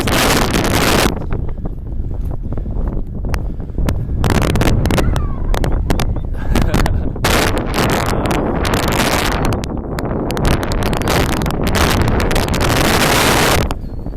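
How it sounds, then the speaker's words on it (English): Heavy wind buffeting a microphone out on a reservoir from a rowboat, a loud, nearly continuous roar of gusts filling the whole clip with brief dips between blasts. "A gust of wind."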